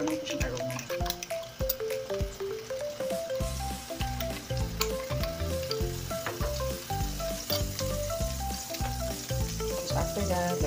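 Butter sizzles and crackles steadily in a hot pan, a loud, continuous frying hiss with small pops and stirring, while music plays and a voice speaks briefly over it.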